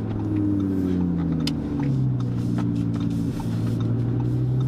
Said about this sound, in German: Also diese 5 Zylinder sind einfach nur geil.